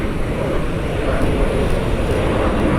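A Southwest airliner arrives at Columbus airport, heard as a loud, steady jet roar with wind buffeting at the microphone and no talking.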